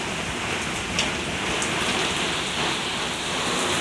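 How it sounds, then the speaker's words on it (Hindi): Heavy rain pours down steadily in a village lane, a loud dense wash of drops with a few sharper splashes and no talking. "ये देखें कितनी तेज़ बारिश आ रही है।"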